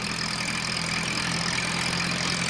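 Postman Pat's van driving along on a hot day, a steady low engine drone with a constant hum, even and unbroken throughout, no voices.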